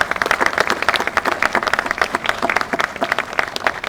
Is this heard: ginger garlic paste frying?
no